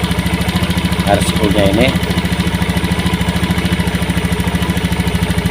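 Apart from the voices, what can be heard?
motorcycle engine idling while RPM is adjusted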